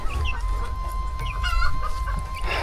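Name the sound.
broiler chickens clucking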